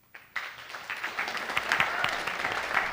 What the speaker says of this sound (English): Let's a round of applause, please.